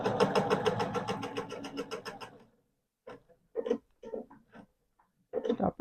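A sewing machine stitching a quilted roll-up tool caddy: a fast, steady mechanical whirr of close stitching for about two seconds, then stops, followed by short bursts of quiet handling and brief stitching.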